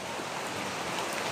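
Heavy rain pours during a flood, a dense, steady broadband hiss close by with no other distinct sounds.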